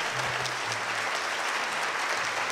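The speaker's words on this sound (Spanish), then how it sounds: "Y es por esa razón que quiero recibir con un muy, pero muy fuerte aplauso a Betiana Bianchimano." A tango show audience breaks into strong, sustained applause as a performer is welcomed, a thick, even roar of clapping with a faint low hum beneath it.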